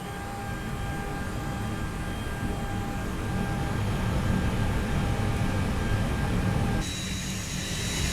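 A cockpit blower fan runs in an A320 flight simulator as a steady broadband whoosh with faint tonal whines, and the texture shifts slightly near the end.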